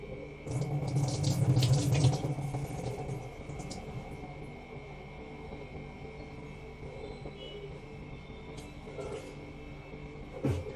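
Water poured into a pot for cooking rice at home, a steady splashing run that is loudest in the first couple of seconds and then settles into a softer trickle, with faint kitchen clatter in the background.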